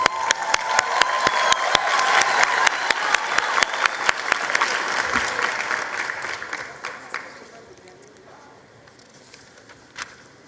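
Audience applause in a hall during a 2023 matric results announcement, loud rapid clapping with sharp individual claps that fades out after about seven seconds, leaving a quiet room and one late clap.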